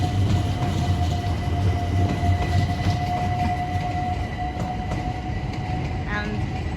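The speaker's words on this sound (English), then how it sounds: "This is a passenger train going here." A passenger train rolls past in an urban neighbourhood in Stratford, London, a steady loud rumble with a sustained tonal whine running throughout, heard up close with no talk over it.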